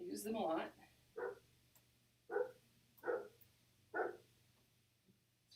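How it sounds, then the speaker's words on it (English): Small dog barking indoors in a home crafting space, a series of about four or five sharp single barks spaced roughly a second apart, fairly close, following a brief spoken line from a woman. "Sorry about the dog."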